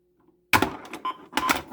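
A 1978 Cadaco Foto-Electronic Bowling Game scores a spare: a sudden loud burst of clattering, rattling electronic-mechanical noise after a brief hush, then a second clattering burst, close and with no talk.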